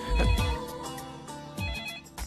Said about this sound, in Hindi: ये साले दुबे का फोन होगा